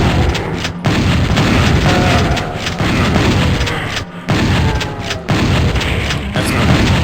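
Explosive barrels detonating in the shooter game Doom 64 Retribution: a run of loud, heavy booms and blasts in quick succession, separated by brief gaps, with dense rumbling noise throughout.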